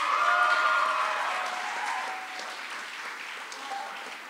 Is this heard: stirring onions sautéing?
no